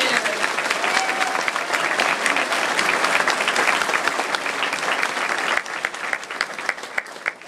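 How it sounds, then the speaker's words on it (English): Audience applause at a fifth-grade moving-up ceremony, a steady dense wash of clapping from a crowd lasting throughout and easing slightly near the end. "Round of applause for our academic"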